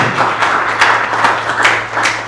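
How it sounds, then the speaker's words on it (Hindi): A lecture audience claps together in steady, continuous applause, a dense patter of many hands at close range with no talking over it. "जोरदार ताली इनके लिए"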